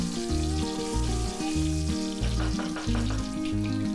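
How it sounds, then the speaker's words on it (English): Mustard seeds, cumin seeds and Kashmiri dry red chillies frying in hot oil, a steady crackling sizzle with scattered spitting pops over a low background hum, no voices. "Add 1 teaspoon mustard seeds, 1 teaspoon cumin seeds, 3 Kashmiri Dry Red Chillies. Fry it for about few seconds."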